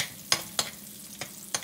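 Garlic sizzles in hot cooking oil for goat paklay while a utensil stirs it, giving four sharp scraping taps over a faint, steady frying hiss.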